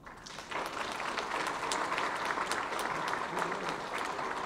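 Steady applause fills a hall at a public event honouring a researcher, as an audience claps continuously at an even level.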